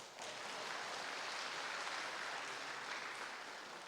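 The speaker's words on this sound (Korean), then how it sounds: "박수 한번 안 칩니까?" A church congregation at a Sunday service claps in a steady, even wash of applause lasting a few seconds, soft and somewhat distant.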